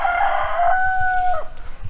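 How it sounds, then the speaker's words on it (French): A rooster at a campsite near the Tolantongo hot springs in Mexico gives one loud, close crow that rises and then trails off, with faint clucking below it. "On a les poules"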